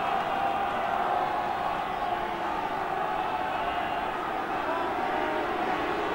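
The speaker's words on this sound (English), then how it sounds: "And the crowd still with plenty of voice left to urge a special effort in this set-piece scrum" A large stadium crowd at a 1979 rugby union match between Northern Division and the New Zealand All Blacks, a steady, dense roar of voices urging on a scrum, sustained and unbroken throughout.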